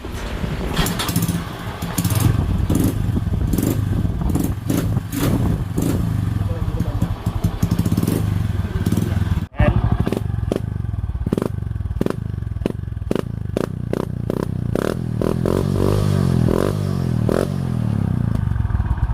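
A Honda Wave motorcycle engine with a newly fitted exhaust pipe idles and revs loudly with a rough, popping exhaust note, steady throughout with brief clattering bursts.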